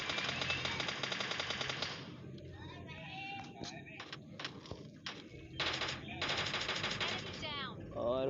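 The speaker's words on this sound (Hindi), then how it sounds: "तो मुझे यहाँ से फायर की आवाज़ आती है" Automatic gunfire in the mobile game PUBG Mobile Lite comes in rapid, close bursts with short pauses, ending in a scattered run of shots.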